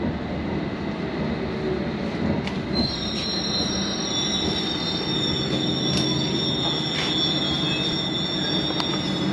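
A London Overground train rumbles steadily while its wheels squeal in high, sustained tones along the rails, with occasional clicks and clanks, close and loud throughout.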